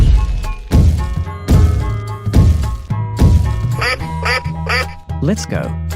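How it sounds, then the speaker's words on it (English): An animated duck gives a run of loud, nasal quacks after several heavy thumps and whacks, close and clear in a cartoon escape room game. "Duck."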